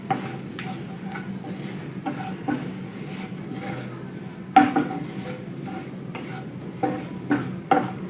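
A spoon stirs Kashmiri red chili into a hot tempering in a pan, with sporadic metallic clinks and scrapes over a soft background hiss and no talk.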